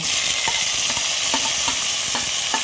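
Onions fry in hot oil until golden for a prawn biryani, a dense steady sizzle broken by regular scraping strokes of a spoon stirring the pan up close.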